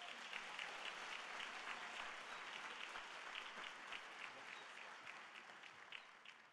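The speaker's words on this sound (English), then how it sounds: "Would y'all help me give Linda a round of applause?" A full theater audience at a school district arts awards evening applauds in a steady, sustained round of clapping, faint and distant, without talk.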